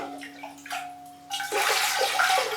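Water pours over mounted orchid keikis, a steady broadband splash and trickle that starts partway in and runs loud and close to the end, with a faint hum beneath.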